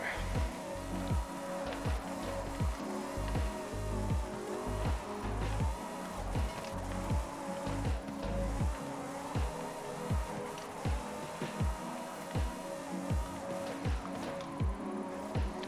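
A Ferrari F40 drift build in a racing game drones steadily as it slides, with regular rhythmic thumps running under the loud, constant engine noise.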